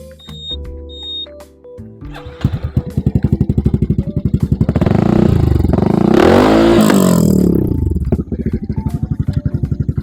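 Honda Forza 350 scooter with an open straight-through exhaust, loud and close, starting with a few low pops and then swelling into a sustained roaring rev before dropping back to a lumpy, throbbing idle.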